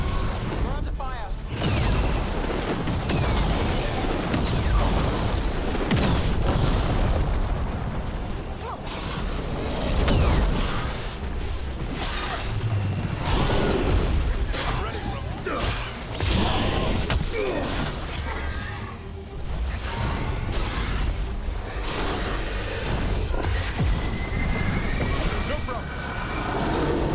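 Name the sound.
gunfire and explosions in Dragon Age: The Veilguard video game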